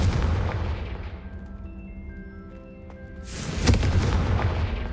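Confringo spell explosions in the video game Hogwarts Legacy: a loud booming burst that decays into a low rumble with faint ringing tones, then a second sharp, bright blast and rumbling roar.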